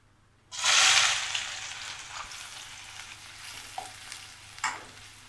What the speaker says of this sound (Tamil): இப்போ பேனில் ஆயில் விட்டுருக்கேன், அது காஞ்சிருச்சு. அதில் இப்போ வெங்காயம் சேர்த்துக்கலாம்.